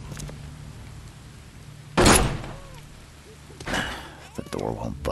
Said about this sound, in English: The door won't budge.